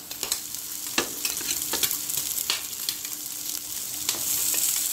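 Onions sizzle steadily in a pan before milkfish is added, with scattered sharp clicks and scrapes from stirring over the continuous crackling hiss.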